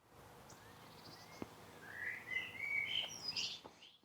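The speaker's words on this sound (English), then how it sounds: "Birds are way louder than the little hum." Several birds sing and chirp nearby, bright whistled phrases building toward the end, over a faint steady hum from a small quiet drone hovering high overhead.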